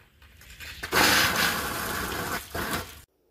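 Air pulsed through water with a Matco coolant flush gun, heard as a loud, close, hissing gush lasting about two seconds, a brief dip, then another burst before cutting off abruptly.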